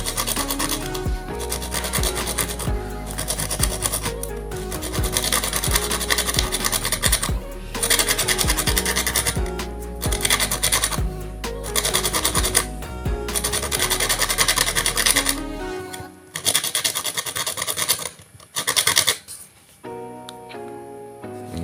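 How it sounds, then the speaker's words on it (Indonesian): Sandpaper rasps rapidly against a copper soldering iron tip in quick repeated strokes, close and fairly loud, ending with a few slower scrapes. "Tinggal kita runcingkan menggunakan amplas ya, teman."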